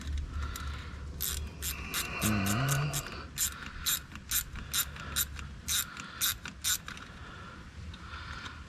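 Ratchet turning a 10 mm bolt on a 2009 Arctic Cat Thundercat H2 1000 SE snowmobile, a close series of sharp ratcheting clicks in quick bursts, with a creaking grind partway through.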